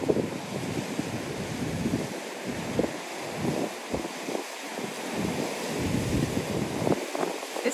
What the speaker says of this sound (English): Okay, let's check the waves out.